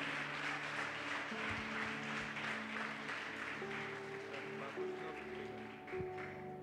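Church congregation claps and cheers in a sustained, dense wash of applause filling the room, steady throughout with a few tonal sounds beneath.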